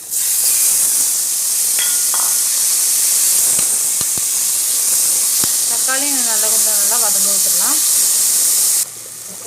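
A constant loud hiss of tomatoes sizzling as they sauté in a hot pan for dal, with a few clinks and scraping squeaks partway through.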